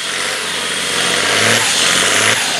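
An International Harvester 766 farm tractor at a field tractor pull, its engine droning loud and close and rising slightly in pitch as it works under load.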